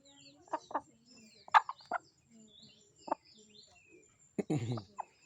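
A chicken clucks in short, scattered bursts at close range, with quiet pauses between calls and a louder squawk toward the end.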